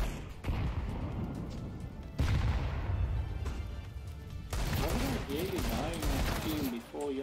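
Bursts of Counter-Strike 2 gunfire crack through a match, heavy and close, with loud reports at the start and again midway, while a voice talks over the shooting.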